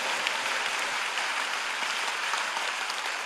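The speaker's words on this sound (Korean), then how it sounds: "우리 하나님께 영광의 박수." A church congregation at a revival gathering claps together in sustained, dense applause. The sound is loud and even for the whole stretch, with no voices over it.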